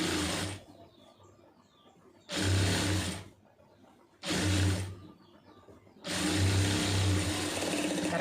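A sewing machine running a small stitch through fabric, heard as four loud, steady mechanical whirring runs with quiet pauses between them, close up and with no talk over it.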